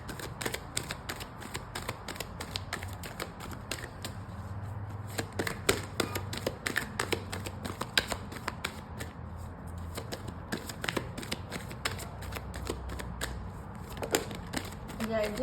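Angel Oracle and Moonology Oracle cards being shuffled by hand, a dense run of quick papery riffles and snaps lasting throughout, close and moderately loud with a faint voice underneath.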